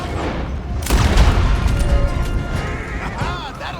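A loud gunshot blast with a crashing burst lands about a second in, followed by lingering rumble and clatter during a Red Dead Redemption 2 scene, close and heavy.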